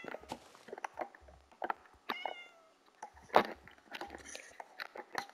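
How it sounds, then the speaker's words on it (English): Cats in the game Minecraft give soft, quiet meows scattered among clicky, busy game noises such as small taps and shuffling, with several short mewing calls rising out of the clutter. "Now I need some cats up here."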